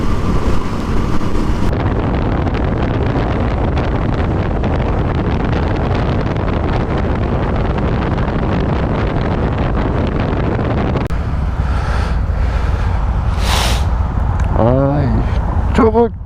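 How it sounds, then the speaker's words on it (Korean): Strong, cold wind roars and buffets a microphone outdoors in Sokcho during a cold wave, a loud, continuous blast that eases near the end, where brief voices and faint rustling come through. "바람 장난이네"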